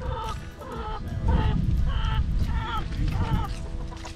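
Chickens cluck and squawk in a steady run of calls while being carried in a loaded vehicle with a mobile coop, over a constant road and engine rumble.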